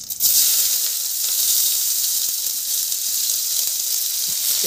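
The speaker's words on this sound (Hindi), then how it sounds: "अभी कटे हुए प्याज डालेंगे जी" Chopped onions hit hot mustard oil with cumin in a home kitchen, giving a steady, loud, continuous sizzle and frying hiss that holds evenly from start to finish with no voices.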